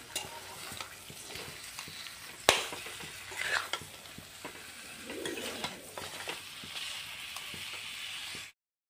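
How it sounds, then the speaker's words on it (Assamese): Fish heads frying with masala in a pan while being stirred: an even sizzle under scraping stirs, with one sharp metallic clank near the start and a few softer knocks of the utensil against the pan. "এনেদৰে মছলাৰ লগত অলপ টাইম এনেদৰে ভাজি লওঁ।"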